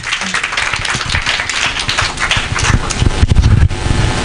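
Audience applause at a youth digital development event welcoming a group to the stage, dense and continuous clapping that swells louder toward the end, with some heavier low thumps and a brief voice mixed in.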